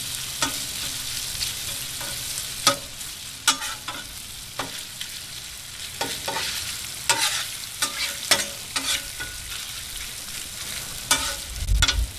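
Chopped omelette ingredients sizzle steadily on a Blackstone 22-inch griddle while a spatula scrapes and taps, spreading them out in repeated clacks and scrapes over the continuous frying hiss.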